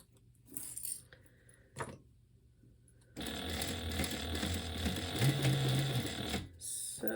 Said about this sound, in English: And I'm going to back stitch because we really want to hold the zipper in place.